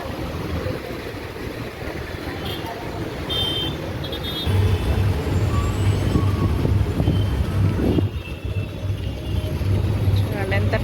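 Busy road traffic near Uppal metro station, with a steady broadband engine rumble from passing and idling cars, trucks and buses. A low hum grows louder after the midpoint, and faint voices sit under the noise.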